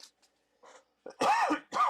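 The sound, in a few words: coughing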